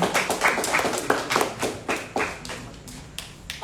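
Scattered applause from a small audience at a theatre discussion event, a handful of claps and taps, uneven and thinning out, fairly close with no talk.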